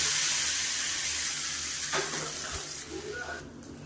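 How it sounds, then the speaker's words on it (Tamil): A South Indian tiffin chutney tempering of mustard seeds, urad dal, cumin, dried red chillies, asafoetida and curry leaves sizzles in hot oil. It starts as a bright, close hiss, then fades with a few soft stirring clinks, and no one speaks. "கடுகு உளுந்து சீரகம் வரமிளகா பெருங்காயம் கருவேப்பிலை கொடுத்தாங்கன்னா இதில் கொட்டிடணும்"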